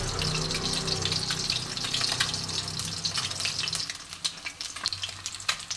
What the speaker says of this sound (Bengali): ডিমগুলো এক পিঠ ভাজা হয়ে গেছে